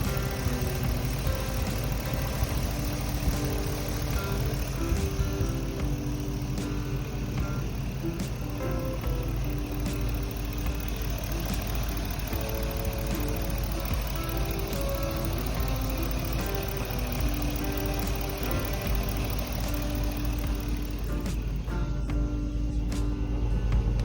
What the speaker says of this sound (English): So I do have an exhaust leak